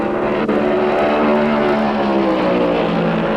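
Stock cars roar together on the oval at Darlington Raceway in the 1972 Southern 500, a dense, sustained loud engine drone with no break from start to finish.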